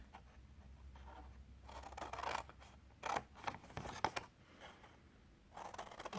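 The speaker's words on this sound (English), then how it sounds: "we're just going to snip up to the first score line" Repeated crisp snips of scissors cutting through stiff card, close up and fairly quiet, coming in uneven bursts with light rustling between cuts.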